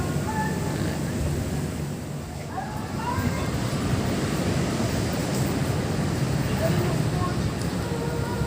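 Sea waves wash steadily onto the beach at the edge of the sea beside the Taj Mahal-style Al-Hakim mosque on Padang beach, a continuous broad roar with wind, moderately loud and unbroken.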